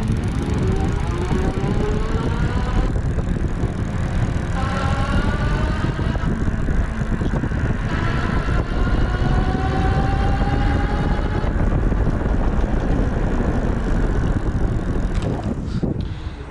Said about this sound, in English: We're going to have it up in pedal assist 3 just so that you can kind of get a listen for the motor.